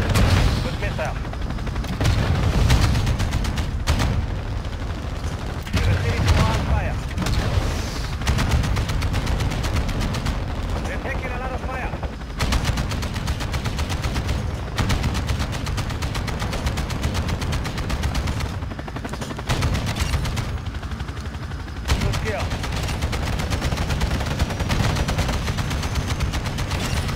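Lachman 762 semi-automatic rifle firing in Modern Warfare 2, a dense run of loud, punchy single shots and clustered volleys with explosive booms mixed in, continuing throughout with occasional voices underneath.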